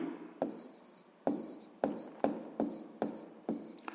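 Pen or pencil writing on paper while working a sixth-grade math exercise: seven quick, scratchy strokes in an irregular rhythm, close and clear, with no one talking.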